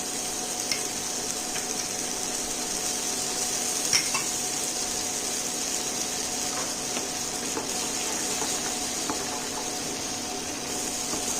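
Butter sizzling in a frying pan as fish cooks: a steady, bright hiss that holds evenly throughout, close up, with a few faint stirring clinks and no one talking.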